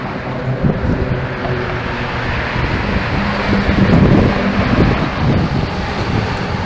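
Strong wind buffets the microphone on a bike ride with the wind at the rider's back, a loud continuous low rumble that swells and dips without letup.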